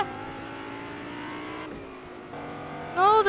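A Lamborghini engine revs in a racing video game: a fairly faint, steady engine drone that climbs into a sharper, louder rev at the very end.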